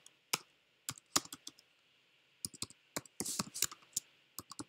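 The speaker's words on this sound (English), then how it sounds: "So if I type env," A computer keyboard is tapped in short irregular bursts of crisp key clicks as a command is entered, close and clear with no talking.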